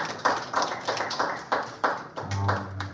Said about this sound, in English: Another round of applause to Dr. Isaac.